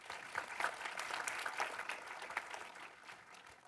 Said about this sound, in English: That's all right, you can clap.